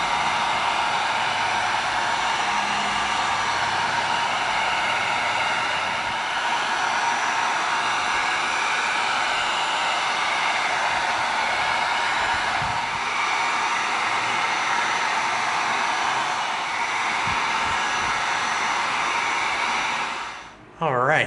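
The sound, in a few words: heat gun running over EVA foam chainsword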